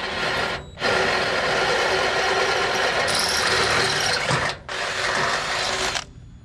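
A drill bores half-inch holes in a steel trailer frame, giving a loud sustained grinding whir that cuts out twice for short pauses, then stops at the end.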